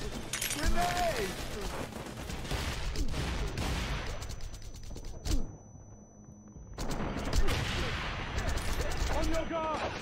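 Gunfire and a grenade blast in the action game Wanted: Dead: dense, loud bursts of shots and impacts fill most of the stretch, with a brief lull midway before the firing resumes, while game voices shout over the combat.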